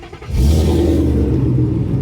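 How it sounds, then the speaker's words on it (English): A Ford Mustang GT with a 5.0 engine cranks and fires up outdoors, settling into a loud, deep, steady rumble with a brief rev, recorded close with no talking. "let's go ahead and start it up and show you how it sounds"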